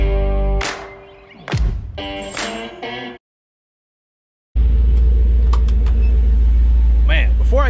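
A slammed 1967 Ford F100 pickup on billet wheels rumbles loudly as it drives, with a low steady engine drone that fills the second half after a brief gap, and talk over the earlier part.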